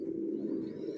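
Young racer pigeons, a female and a male kept for sale, coo in a steady low continuous murmur that is close and even in level throughout.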